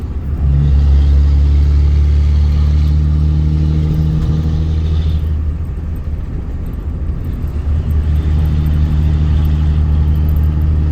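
A 2003 Ram 2500 pickup with a 5.9 Cummins diesel and six-speed manual tows about 12,000 pounds, its engine droning loud and steady from inside the cab with a low rumble throughout.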